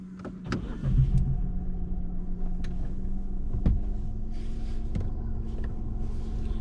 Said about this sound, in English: So when you're ready, just start the car for me.